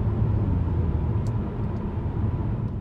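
A 2016 Mercedes-Benz C450 AMG 4MATIC in sport mode gives a steady, fairly loud low engine and road rumble heard from inside the cabin, holding an even level throughout with no talking.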